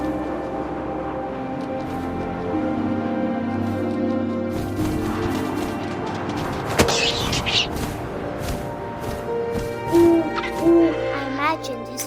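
Owl hoots in the video game What Remains of Edith Finch, low soft calls over ambient game music and wind, with a few brief sharper sounds later on.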